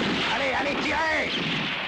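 Gunfire crackles through a western film shootout, a loud, continuous wash of shots and echoing blasts mixed with shouting voices and dramatic score.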